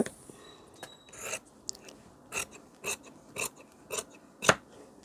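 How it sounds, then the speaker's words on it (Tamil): Scissors cut blouse sleeve fabric along a marked line, heard as a run of short, crisp snips in a steady rhythm, close and moderately loud, with no voices. "அந்த கையை அப்படியே மார்க்லேயே கட் பண்ணிடலாம்"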